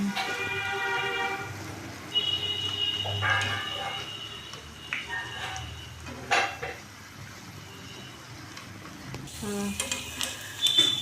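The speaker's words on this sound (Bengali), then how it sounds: "এরপর জিলিপিগুলো ভেজে নেব" Jalebi spirals fry in hot oil in a home kitchen with a soft, intermittent sizzle and occasional utensil clatter, while tonal horn-like sounds drift in from the background.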